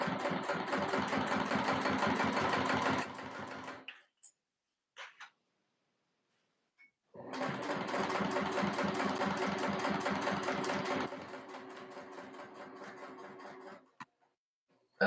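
A home sewing machine, recently oiled, runs in two steady mechanical bursts of about three to four seconds each, separated by a short pause with faint clicks.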